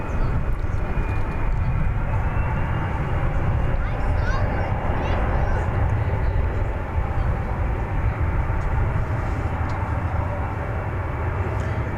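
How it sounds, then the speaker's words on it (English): American Airlines Airbus A321 jet passing at an airport, a continuous rumbling engine roar with a rising whine, with a voice talking over it. "This is American Flight 777, which of course is not a 777, it's an Airbus A321"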